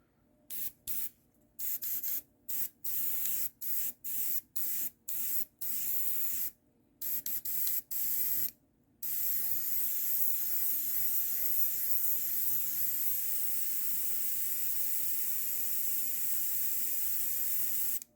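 Sharp bursts of hissing air start and stop several times from a Timbertech FABPST08 airbrush compressor with tank, then a steady continuous hiss of escaping air runs on, fairly quiet.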